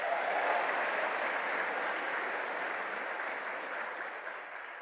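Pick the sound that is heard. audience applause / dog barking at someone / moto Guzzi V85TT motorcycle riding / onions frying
audience applause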